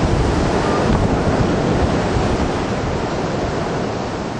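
Strong typhoon wind on Yakushima roars just outside a window, a loud, dense, unbroken rushing that buffets the microphone for the whole stretch, with no voices over it.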